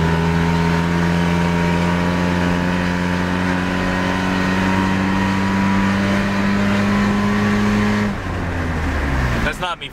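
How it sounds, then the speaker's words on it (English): A straight-piped Nissan Sentra engine running at sustained high revs with a steady droning tone, then cutting back abruptly near the end. "Oh, so this is how the Sentra sounds, by the way."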